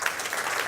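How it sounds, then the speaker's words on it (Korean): A church congregation claps together in a short burst of steady, dense applause. "박수 한번 주십시오."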